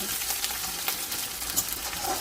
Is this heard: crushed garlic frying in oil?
yes